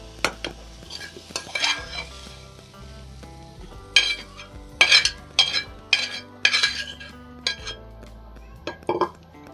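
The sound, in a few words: stirring steamed fenugreek vegetables into garlic masala in pan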